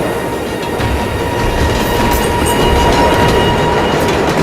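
A Gotham subway train runs in a steady, loud, continuous rumble with rail noise and faint clatter throughout, no voices over it.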